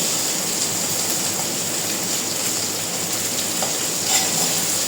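Potatoes frying in a pan, heard as a loud, continuous dense sizzle that stays close and steady throughout with no voices or other sounds.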